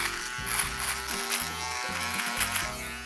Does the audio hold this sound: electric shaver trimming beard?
yes